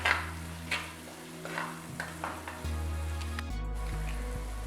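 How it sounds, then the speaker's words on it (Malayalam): Chili powder and other ingredients for a tuna fish head curry fry in oil with a quiet sizzle, punctuated by a few stirring scrapes and clinks of a spoon against the pan, close and fairly faint. "അത് എണ്ണയിൽ കിടന്ന് നന്നായിട്ടൊന്ന് മൂത്ത് കിട്ടണം."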